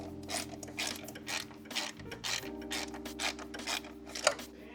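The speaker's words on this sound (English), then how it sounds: "Go ahead and remove the nut first." A hand ratchet loosens the nut on a Nissan Z hood popper, giving a quick, even run of close mechanical clicks with a brief pause midway.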